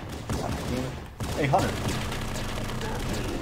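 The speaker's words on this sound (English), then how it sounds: "All these guns shooting over all over the place." Rapid bursts of gunfire from the Halo 5 video game crackle throughout, overlapping shots under excited talk from players.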